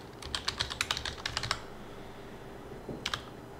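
Login details are typed on a computer keyboard: a quick run of close, crisp key clicks, a pause, then a couple more taps.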